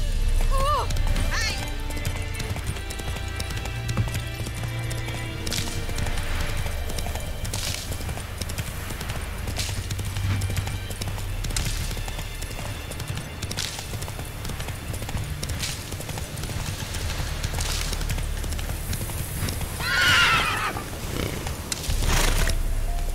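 Geralt's horse Roach in The Witcher 3 gallops with steady, continuous hoofbeats close by, with a brief whinny late on, all over a dense bed of game ambience and music.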